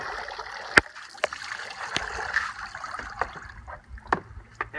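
A bear hide lands in a tub of rinse water during tanning, giving sloshing, gurgling water with scattered sharp splashes and knocks, close and moderately loud, with no speech.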